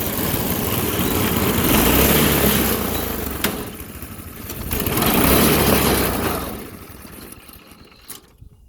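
A Honda GX200 engine on a mini go-kart with its governor bypassed runs loud and close, revving up, dropping back, surging again, then fading down toward the end.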